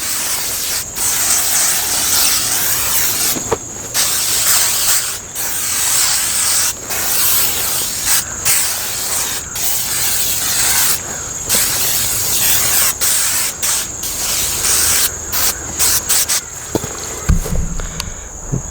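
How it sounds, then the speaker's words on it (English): Permethrin bug spray hisses from a can onto pants and boots outdoors before scouting, in repeated short bursts over a steady high insect chorus. "spray our pants really good with this stuff,"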